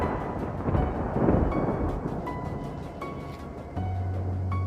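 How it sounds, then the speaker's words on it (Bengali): A thunderclap crashes through a heavy rainstorm, the broad roar of rain continuing throughout and a deep low rumble swelling near the end, fairly loud with no talk. "বাজ পড়ার শব্দ শোনা গেল আবার।"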